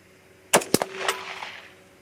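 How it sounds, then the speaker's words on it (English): A single sharp .243 Win rifle shot firing a Nosler Partition bullet at an outdoor range, loud and close, followed by a quick metallic clack and a fading echo. "Okay, second shot."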